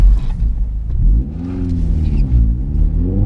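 A Vauxhall Astra VXR on the Nurburgring pulls hard under acceleration, its engine note climbing loud and close in a rising growl that dips briefly at a gear change before climbing again.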